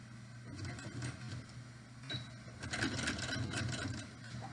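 A sewing machine runs steadily, stitching fabric pieces for a face mask with an elastic and wire nose piece. The motor hum is continuous and fairly close, with no talk over it.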